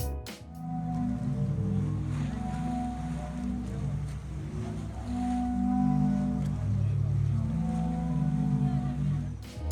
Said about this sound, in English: I saw, or should I say heard, the sounds of the renowned sea organ